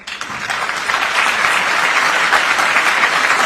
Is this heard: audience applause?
yes